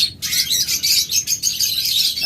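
A group of double flower budgerigars chatters and tweets continuously, dense overlapping high chirps close up with no voices.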